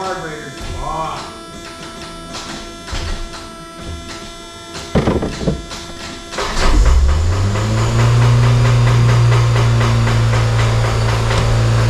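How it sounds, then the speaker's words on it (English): A 1983 Honda Civic with a 1.5L EM1 engine and a badly adjusted rebuilt carburetor fires up midway and settles into a loud, steady, fast idle hum, following a stretch of clanking work noise and someone talking. "It's idling mighty high"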